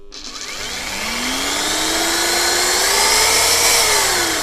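A car engine revs well above 1000 RPM during an alternator test, giving a loud, continuous mechanical roar with a whine that climbs steadily in pitch, heard up close with no voices.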